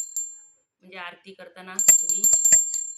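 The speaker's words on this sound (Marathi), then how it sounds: "आरती पण करू शकता घंटी वाजते" A small bell on a brass peacock-shaped pooja oil lamp rings in bright, sustained metallic dings, a single strike at the start and a quick series near the end, with someone speaking between them.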